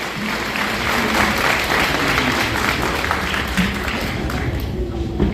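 Applause from the audience at an inauguration ceremony for a Brahma Kumaris spiritual fair at the Prayagraj Mahakumbh fills the hall, dense and steady for several seconds, with a murmur of voices underneath.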